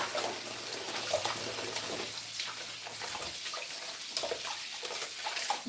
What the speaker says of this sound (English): give your fruits and vegetables a good wash, scrub down. I use water,